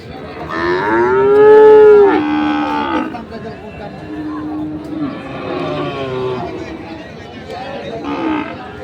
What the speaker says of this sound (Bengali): দিনাজপুর জেলার আমবাড়িহাটে যে সাইওয়াল জাতের বাচ্চা গরুগুলো বিক্রয় হচ্ছিল